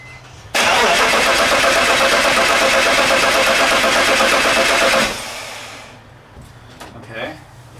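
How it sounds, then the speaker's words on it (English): A BMW E46 with an M54 engine cranks and fires after an exhaust manifold install on a weak battery, then runs loud and steady for about four and a half seconds before shutting off, leaving faint noises afterward. "I think it will crank, so let's try to do this"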